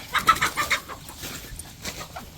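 Several chickens cluck in quick bursts close by, busy at first and then thinning to scattered calls over a quiet outdoor background.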